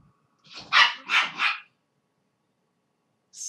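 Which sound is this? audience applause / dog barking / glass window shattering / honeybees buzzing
dog barking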